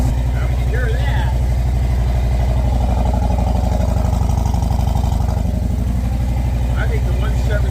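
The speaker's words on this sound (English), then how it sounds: "I think the 117 motor sounds so good." A Harley-Davidson motorcycle with a 117 motor runs close by at a loud, steady, lumpy idle, its low pulsing rumble continuing throughout while someone talks over it.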